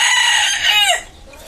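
A chicken near a net-built coop gives a loud, close, drawn-out squawking cluck that bends downward and fades out after about a second.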